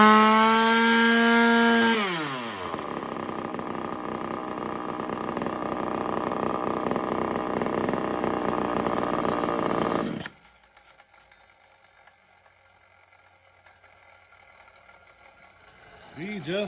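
A ported Homelite XL-76 chainsaw with a carburetor problem revs high with a steady harmonic whine, then drops to a rough, loud idle for several seconds before cutting out abruptly, leaving near silence with faint rumbling.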